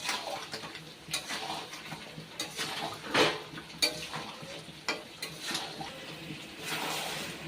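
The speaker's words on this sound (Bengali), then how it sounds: "এবারে আলু পেঁয়াজ মাংসের সাথে খুব ভালোভাবে কষে নেব।" Meat with potatoes and onions stirred and fried in a pan for chicken dak bungalow, with repeated scraping and clinking of a spoon against the metal at an uneven rhythm, under a faint sizzle.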